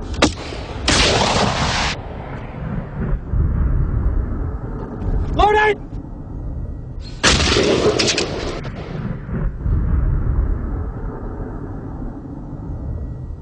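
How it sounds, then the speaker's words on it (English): A British Army Milan wire-guided anti-tank missile fires in two loud, broadband launch blasts, each a sharp roaring rush lasting about a second, set apart by several seconds of rumbling background noise. "The Milan is the British Army's medium-range, wire-guided anti-tank weapon."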